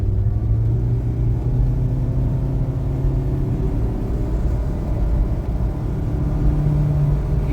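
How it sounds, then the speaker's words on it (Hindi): A DFSK Glory 580 Pro SUV's turbocharged engine pulls at full throttle from a standstill, a loud, steady low rumble with rising harmonic tones, heard from inside the cabin with no talking. "मैंने फुल ऑन थ्रोटल दिया है।"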